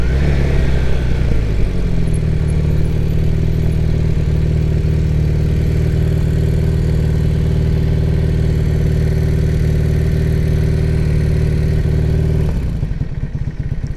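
A 1978 Honda CB400T motorcycle engine runs steadily with the choke partly on, a loud, close, even idle with a deep throb that cuts off abruptly near the end.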